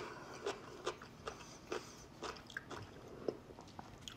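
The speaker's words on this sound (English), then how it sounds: "can't beat that crunch" Crunchy Cajun-seasoned pickle spiced with smoked paprika, cayenne, chipotle and thyme being bitten and chewed close up, a series of sharp crisp crunches at an irregular rhythm over a quiet background.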